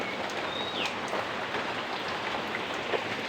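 Steady rain falling during a flood, a dense, even patter heard close by with a faint bird call above it and no voices.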